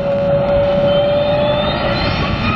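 An airliner jet engine spools up at an airport, a loud steady roar with a rising tonal whine and a buzzsaw edge that holds throughout, close and alone with no talk.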